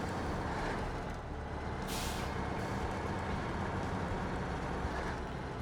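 A truck in the off-road driving game SnowRunner labours through a muddy bog under a heavy load, a constant low engine drone with a brief hissing burst partway, steady and loud with no voices.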